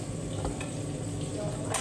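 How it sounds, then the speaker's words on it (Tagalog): Food frying in oil gives a close, continuous sizzle with a few soft stirring scrapes and no voices. "Prito natin. Habang nagpiprito ako,"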